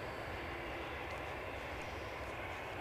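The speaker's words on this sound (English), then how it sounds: "Rab says Delta showing 13:35 departure. That sounds like exactly the right plane to finish on. Something big, heavy" A heavy Delta jet departing Edinburgh Airport, heard as a steady, broad, throaty engine roar with a low rumble, sustained and fairly distant, with no talking.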